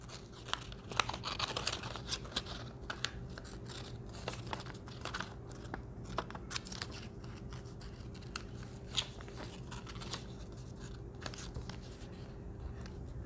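Scissors snip paper to cut out a small alligator hand. Quiet crisp cuts and light crinkles come in irregular bursts over a faint steady background hum.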